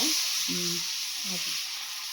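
Dosa batter of millet and ragi flour with cumin, onion and green chilli sizzles on a hot pan, a steady bright hiss running throughout, with brief low hums of a voice in the background.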